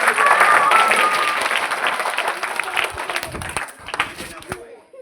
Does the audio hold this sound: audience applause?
yes